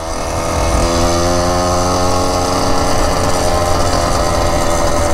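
A moped engine roars loud and close just after its carburetor is adjusted, revving up from a lower note into a sustained, buzzing high-rpm drone that holds steady throughout.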